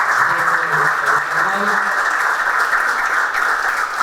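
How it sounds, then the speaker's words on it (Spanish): Audience at a meeting with livestock producers in La Pampa applauding, a dense, loud, even patter of clapping that holds for the whole stretch, with faint voices mixed underneath. "Víctor, nuevamente el aplauso."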